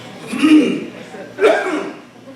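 A person gives two short, throaty coughs close to the microphone, about a second apart, each fading quickly.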